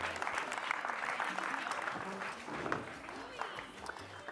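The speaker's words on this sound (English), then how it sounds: "let's give a round of applause to Lali, Sofia, and Omar." An audience at a salsa music show claps and applauds steadily, a dense, continuous patter of many hands heard from some distance, with crowd murmur mixed in.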